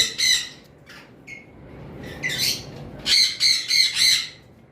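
An albino Fischer's lovebird lets out sharp, harsh squawks close by, a few isolated calls early on and then a rapid burst of four or five shrill squawks near the end.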